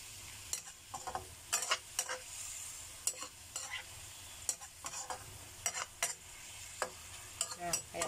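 Chicken stirred in a frying pan for an Indonesian stir-fry with long beans, with quiet sizzling and irregular scraping strokes of a spatula against the pan.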